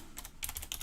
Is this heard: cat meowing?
no